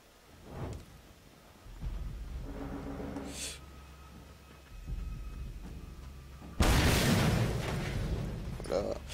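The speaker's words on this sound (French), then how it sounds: "Les explosions sont bien faites." Explosions from the Mad Max video game boom with deep rumbling blasts and crackling debris, a heavy burst late in the clip followed by sustained noisy roar, amid continuous game ambience.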